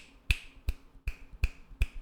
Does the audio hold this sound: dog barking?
no